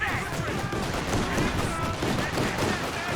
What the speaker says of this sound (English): A couple of decent hits there with the flak.